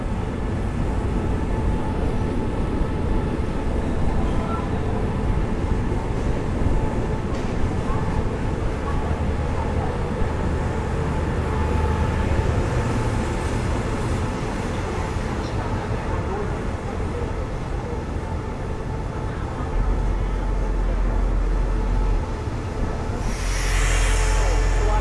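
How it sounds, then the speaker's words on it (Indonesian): A CC 200 locomotive on the shuttle train from Padang Besar rumbles loudly and continuously up close, a heavy steady roar that swells slightly near the end. "Suaranya tuh menggelegar banget. Ini mau lepas ya. Lepas Loco."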